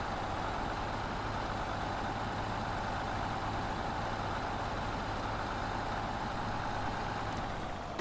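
A truck in a driving game rumbles along with a steady low engine drone and a constant rough rattle from its trailer, continuous and fairly even throughout with no voices.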